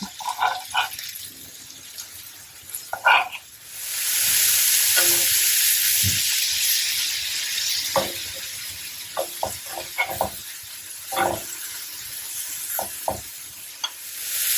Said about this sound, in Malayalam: രണ്ട് ബാച്ചായിട്ട് വറുത്തെടുക്കാം.